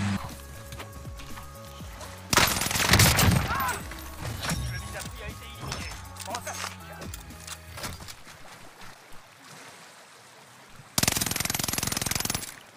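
A weapon fires in a French-language shooter video game, loud bursts of rapid automatic fire in two main stretches with quieter gameplay sounds between, while someone talks over it.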